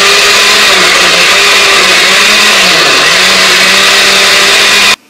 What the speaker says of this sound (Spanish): Y todo se va a la licuadora, junto con los tomates y con los chiles que ya tuvimos en el agua.